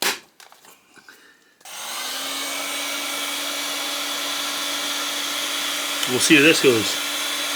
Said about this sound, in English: we're going to try a little bit of heat gun